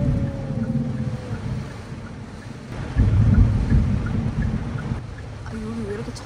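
Thunder rumbles through a rainstorm in Jeju, a heavy low roll swelling midway over steady rain and wind noise, with a voice briefly audible.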